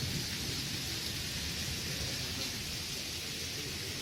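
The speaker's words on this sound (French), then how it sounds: "vous voyez qu'il pleut des grêles et tout" Steady rain mixed with falling hail during a storm, a dense continuous hiss and patter with no distinct breaks and no voices.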